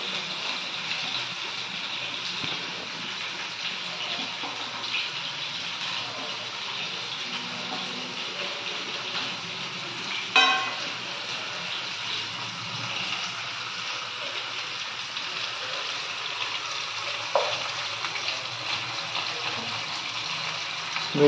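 Dry fish fries in hot oil, a steady moderate hiss of oil running throughout with one sharp clatter midway and a brief splash later, no voices.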